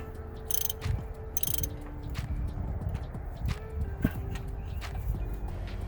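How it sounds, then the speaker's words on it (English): A ratchet with a deep socket loosens a spark plug on a Toyota HiLux RN85 with a 22R/RE engine, making quick repeated metallic clicks and short ratcheting strokes up close, with a few louder knocks between them. "To get that spark plug out, you'll need a deep socket."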